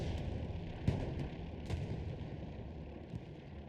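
Strafing run in the Hell Let Loose video game: heavy booming impacts and bursts of gunfire over a constant rumbling din, with a couple of sharper blasts standing out.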